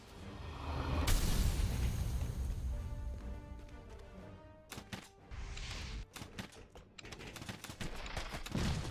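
Gunfire in a video game: an opening blast and rumble, then rapid bursts of sharp shots in irregular clusters mixed with whooshing and clattering effects, moderately loud throughout.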